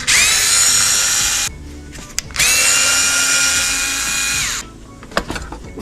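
A power driver whirs in two long, loud bursts while backing 2.5 mm Allen bolts out of a Traxxas Maxx RC truck, separated by a short pause and followed by light clicks and taps.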